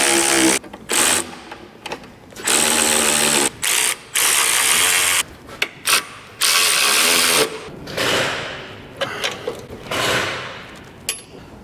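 Ratchet bolting up the roll bar on a Mercedes W124, close and loud, in repeated bursts of rapid clicking separated by short pauses.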